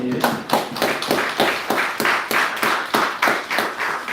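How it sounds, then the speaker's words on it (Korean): A church congregation at a Sunday morning worship service claps in unison, sharp, loud, rhythmic strokes landing about three times per second in a steady beat, with no talking over them. "우리 박수로"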